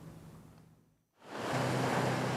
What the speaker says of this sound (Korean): 내리쬐는 태양 아래 푸른 파도가 넘실대는 울산의 한 해수욕장.